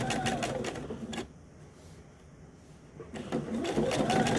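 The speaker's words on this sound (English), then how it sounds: "the machine is going to stitch over on top of itself 3 times" A sewing machine runs a tack stitch, stitching back over itself three times: two bursts of rapid, steady needle chatter separated by a short pause, loud and close with no talking.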